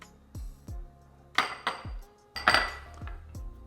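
Diced tomatoes and other chopped food land in a bowl, giving several separate light clattering knocks and clinks against the dish in an uneven rhythm, close up, with no talking.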